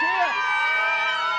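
A crowd cheers for first responders along Broadway's Canyon of Heroes in Lower Manhattan, with sustained whooping and shouting voices merging into one steady, loud roar.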